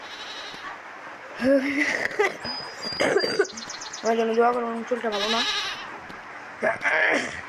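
A goat bleats several times close by, short wavering cries scattered among a woman's speech and handling noises.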